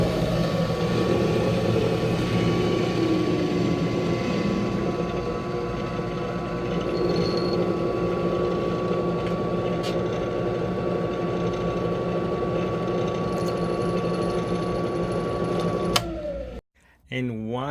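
A WEN variable speed benchtop drill press runs at top speed with a steady high motor whine and hum for about sixteen seconds, then winds down abruptly; a voice talks over it.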